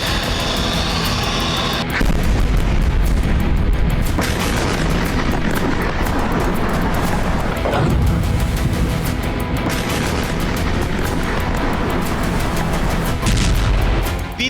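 Explosions from Russian cruise missile strikes on Odesa, Ukraine, captured in news footage: a loud, continuous roar with heavy booming surges and sudden bursts, no voices heard.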